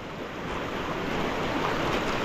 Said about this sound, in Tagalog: Malaki din po pala tubig ang Dumaka.